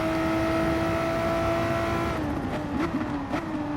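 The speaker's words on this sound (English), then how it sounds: "I'm now going to pretend to go for that late braking manoeuvre" A VW Supersport race car at the Red Bull Ring holds a loud, steady engine drone on approach, then the note breaks up into quick downshift blips as it brakes late into a corner.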